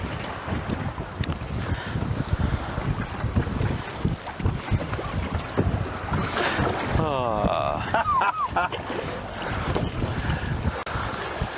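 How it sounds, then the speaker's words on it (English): Wind gusts across Lake Winnebago on a fishing boat, roaring into the microphone with steady buffeting and water slapping the hull, while people talk throughout over the blustery noise. "Feels like it's getting windier."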